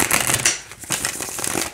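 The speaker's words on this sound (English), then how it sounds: "let's see how it shuffles" Spirit Animal Tarot cards, a thin-stock deck, are shuffled close up in a quick riffling burst of crisp, rapid paper flutters.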